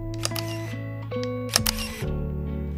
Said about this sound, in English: But the shutter sound makes up for it and sounds really cool.